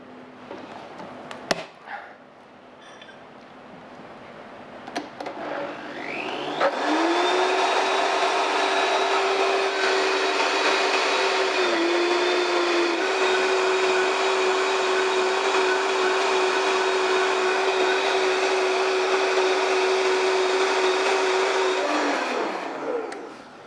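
A blender purées cooked food with cooking juice. A few clunks come first, then the motor spins up into a loud, steady whine that holds for about fifteen seconds, dips briefly once, and winds down to a stop.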